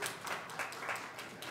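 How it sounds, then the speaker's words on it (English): A church congregation claps in praise, a soft, quick patter of many hands spread evenly across a brief moment, faint and somewhat distant, with no voices over it. "So let's just give another clap, praise of God."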